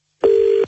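A telephone tone sounds while a call is placed: one steady electronic beep lasting under half a second, loud and clear against silence.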